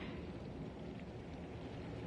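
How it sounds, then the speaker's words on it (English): Steady, dense rain in the video game Honkai Star Rail, a continuous broadband wash with a low rumble underneath, even and unbroken throughout with no talk. "The rain is intensifying."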